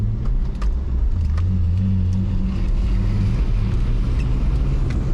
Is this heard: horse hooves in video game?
no